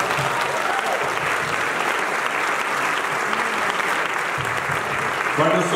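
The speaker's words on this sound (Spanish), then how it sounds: "un aplauso para todos." Steady, dense audience applause fills a theater after thanks go to the lighting and sound crew at a play's plaque unveiling, sustained and even throughout with faint voices beneath.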